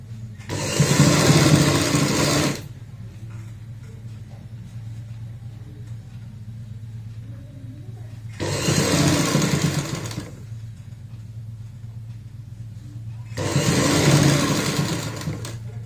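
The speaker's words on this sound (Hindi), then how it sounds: "हाफ हिस्से में इस साइड से सिलाई लगाएंगे।" A sewing machine stitches fabric for a baby frock in three bursts of fast, even whirring separated by quieter pauses, sounding close and steady with no talk.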